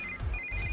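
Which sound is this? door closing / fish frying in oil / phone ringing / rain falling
phone ringing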